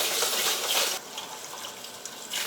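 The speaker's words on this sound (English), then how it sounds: "I'm going to fill this with some cold water so that the rice gets fully saturated." Cold tap water gushing into a bowl of uncooked rice, a steady close splashing rush that drops to a quieter trickle midway and swells again at the end.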